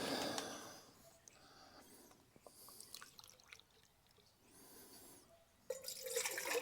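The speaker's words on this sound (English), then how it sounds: "We'll do 3 cups of water." Water is poured into a cold camping pot clipped onto a folding camping table: faint, intermittent trickling and dripping bursts, with a fuller splash of water near the end.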